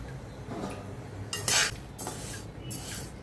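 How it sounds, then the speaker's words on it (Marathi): Jowar (sorghum) grains roasting in a hot kadhai over medium heat, stirred with a metal utensil that scrapes and rattles in short bursts against the pan, with no talk. "आपण आता त्यामध्ये ज्वारी भाजून घेऊया"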